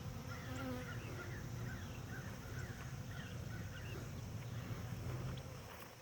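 A honeybee swarm hums in a dense, continuous drone outdoors, with individual bees zipping past close by over the steady buzzing mass.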